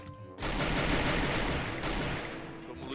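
Sustained automatic gunfire in the Free Fire battle royale game, a dense continuous burst of rapid shots that starts abruptly and stays loud throughout with no talk over it.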